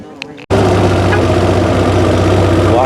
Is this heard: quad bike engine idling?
yes